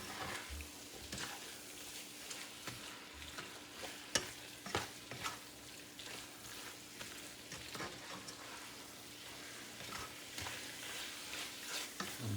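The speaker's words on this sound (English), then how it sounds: "I'm going to mix all these in to the mixture." Spices are stirred into a sizzling chicken tikka masala mixture in a pan, giving a steady frying hiss broken by scraping and clacking as the spoon moves, close and moderately quiet.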